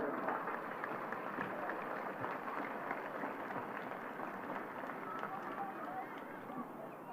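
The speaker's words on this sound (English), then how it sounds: "So a big round of applause for Sarsfields." A crowd applauds the Sarsfields camogie team after a Galway county final, steady clapping for several seconds that slowly thins, heard alone without talk.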